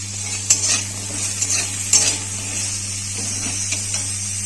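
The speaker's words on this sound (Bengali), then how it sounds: "সবার শেষে আমি উচ্ছেটা ভেজে নেব নুন দিয়ে দেবো" Bitter gourd frying in a pan, a constant low sizzle broken by a few sharp scrapes and clinks of a spatula stirring against the metal, close by and without talk.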